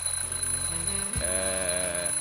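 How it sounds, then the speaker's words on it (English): A smoke detector in the adventure game The Journey Down sounds a loud, sustained electronic alarm tone that starts partway through and holds steadily to the end, close and clear over a faint background hum. "I'm, just testing the smoke detector."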